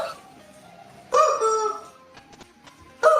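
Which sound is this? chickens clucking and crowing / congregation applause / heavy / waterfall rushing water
chickens clucking and crowing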